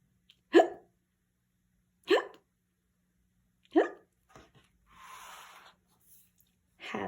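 A cartoon skeleton hiccups in a Halloween picture-book read-aloud: three short, sharp vocal hic bursts spaced evenly about a second and a half apart, close and clear, followed by a brief breathy noise, with a voice imitating the hiccup sound.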